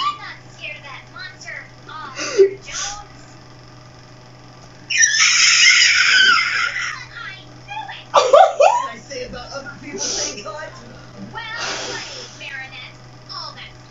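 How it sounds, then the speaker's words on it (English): A young girl screams excitedly while watching Miraculous Ladybug, with one long high scream and a few shorter shrieks amid her chatter and giggling indoors. "now there's going to be some slight screaming"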